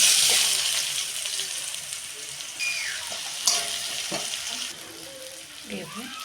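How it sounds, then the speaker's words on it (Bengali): Cumin seeds and chopped onion hit hot oil in a pan while cooking a rohu fish head curry, a loud bright sizzle that settles into steady frying with scraping stirs and a few clinks. "ওই তেলেই দেবো জিরে ফোড়ন, দেবো পেঁয়াজ কুচিটা"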